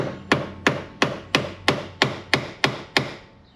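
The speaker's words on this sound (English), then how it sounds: "so we'll keep hammering" A hammer striking repeatedly to knock out a seal on a 1977 Corvette, nine sharp metallic blows at a steady, even pace, close and loud with nothing else heard.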